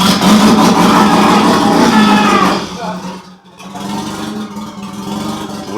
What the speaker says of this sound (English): Wheels spinning.